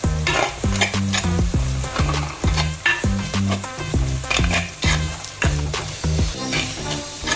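Onions frying in a pan with turmeric, fish masala, Kashmiri and plain chilli powders being stirred in for a Kerala wedding-style fish curry, a loud steady sizzle broken by rhythmic scraping strokes of a spoon, with no talking.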